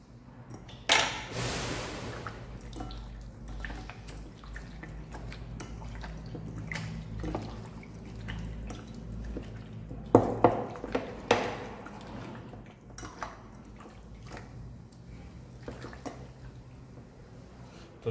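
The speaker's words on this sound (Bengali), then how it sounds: "এবার হাতের মাধ্যমে এটাকে ভালো করে মিক্স করে নেব।" Raw mutton mixed with mustard oil by hand, giving wet squelching and slapping sounds close up that rise and fall irregularly, with a busier patch of squishy bursts partway through, and no one speaking.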